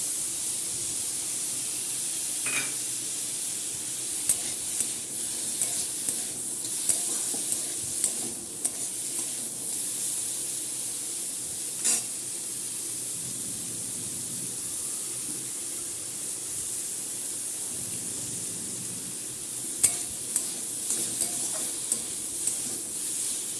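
Soybean chunks fry in a pan with salt and turmeric, a faint steady sizzle and hiss with occasional light spatula taps and scrapes spread across the stretch, no one speaking.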